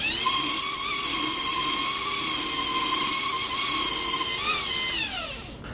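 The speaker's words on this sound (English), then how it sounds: "we can get away with grinding off a little bit. Not too much, but we can grind off a little bit." A belt grinder with a 220-grit belt grinds knife steel in a loud, sustained whine with steady tones, which shift in pitch near the end as the machine winds down.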